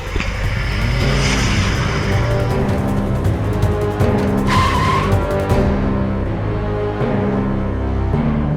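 A car overtakes during a chase with tires skidding and squealing, loud engine revving close up, and a sharp screech midway as it swerves past.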